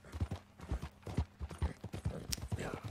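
Horse hooves clip-clopping in Red Dead Redemption II on PS4, a steady trotting rhythm of close, distinct hoof falls with a skittish horse, fairly quiet overall.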